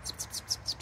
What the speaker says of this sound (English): That's a kingbird.